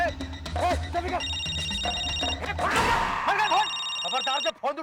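A telephone rings in a tense drama scene with a repeated electronic ring in two bursts, heard under voices talking and shouting.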